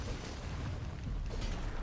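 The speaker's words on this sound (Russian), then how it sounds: "А, пока он взрывается" Explosion during a Diablos fight in Monster Hunter: World, a loud, sustained low rumbling blast that rolls on steadily without a break and with no voices over it.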